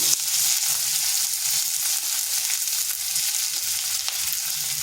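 Dried red chillies, black cumin, sliced onion and garlic frying in hot oil give a loud, steady, close sizzle that hisses without a break, with faint stirring beneath and no voices.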